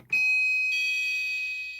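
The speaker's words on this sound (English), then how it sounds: "There's this little GE door alarm with a 4-digit keypad on the front of it, and it has a door chime" A GE door alarm with a four-digit keypad sounds its door chime: one sharp, loud electronic tone that starts abruptly and rings steadily for nearly two seconds, heard close and alone.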